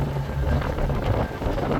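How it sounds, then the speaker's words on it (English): Strong wind of about 27 knots gusting over 30 buffets a sailing yacht off French Polynesia, a loud, continuous roaring rush with gusty swells and no voices. "the wind was already making its presence known"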